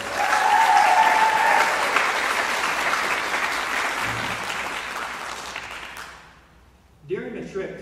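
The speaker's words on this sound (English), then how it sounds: "One more round of applause for this program." An audience at a college jazz band concert breaks into loud, sustained applause that gradually fades out, then a voice begins speaking near the end.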